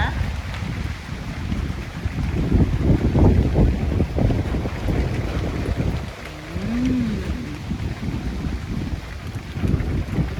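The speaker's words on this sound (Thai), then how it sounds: "ลมแรงเลย วันนี้นะ" Strong wind blows outdoors ahead of a rainstorm, roaring and buffeting the microphone in uneven gusts. A short voiced sound and some faint talk surface briefly in the middle.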